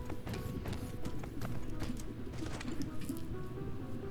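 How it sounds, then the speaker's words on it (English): Birds calling outside a house, faint and distant: scattered short chirps and cooing over a low, steady background hum. "The birds are going nuts."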